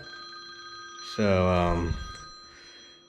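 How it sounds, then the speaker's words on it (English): An incoming-call ring from a telephone in a farm barn setting sounds as a thin, steady electronic tone while a voice speaks briefly over it. "I got a phone call coming in here"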